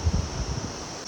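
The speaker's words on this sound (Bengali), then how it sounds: "তো সুন্দর একটা ঝর্ণা" A waterfall near a homestay at Sonada, Darjeeling, makes a steady, even rush of broadband water noise, close and continuous across a short moment, with a few low thumps at the start.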